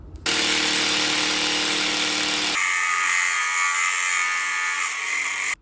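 A power tool cuts through the bolt heads on a truck's leaf spring shackles, a loud, steady high-pitched whine that shifts to a thinner, brighter tone partway through and then stops abruptly.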